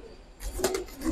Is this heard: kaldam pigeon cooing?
yes